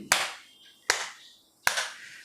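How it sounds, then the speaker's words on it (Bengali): Three sharp hand claps spaced evenly about a second apart, each a crisp, close, bright slap with a short decay into quiet, demonstrated as a health exercise. "যদি আমরা হাততালি দিতে শুরু করি"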